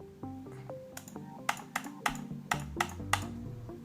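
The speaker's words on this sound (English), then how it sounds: "I figured I'd record myself clicking in real life to show you guys that I am completely legit" Rapid real-life mouse clicking comes as a quick series of crisp, close, sharp clicks, roughly a dozen in under four seconds, with faint mechanical tones between them and no talking.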